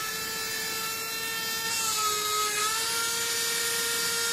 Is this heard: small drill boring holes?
yes